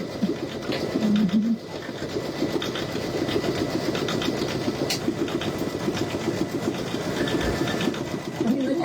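Brother V5 and Luminaire embroidery machines stitching a Christmas hanging sign, a steady mechanical whirring and rapid needle chatter that runs continuously and fairly close throughout, with no talking.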